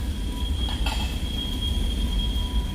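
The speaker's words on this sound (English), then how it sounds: "The train rolling by." A train rolls by in Yuma, Arizona, a steady heavy rumble with high, sustained wheel squeal ringing over it, loud and continuous throughout with no talk.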